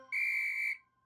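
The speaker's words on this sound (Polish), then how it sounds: "Dźwięk gwizdka jest głośniejszy niż dźwięk nożyc" A single short, shrill whistle blast, loud and steady for under a second, then silence.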